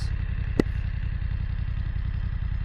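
A BMW F900R motorcycle engine idles close by with a steady, throbbing low pulse, broken once by a brief sharp click.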